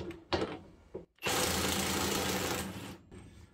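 Parkside Performance cordless impact wrench loosening a bolt tightened to 450 Nm, set to 400 Nm mode: one loud, dense hammering burst of about two seconds, close up, after a couple of short mechanical clicks.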